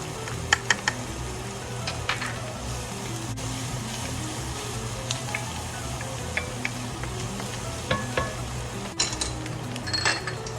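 Garlic and onions sizzle in a pot for Portuguese caldo verde, a steady close frying hiss with occasional clicks and light clinks of a utensil against the pot.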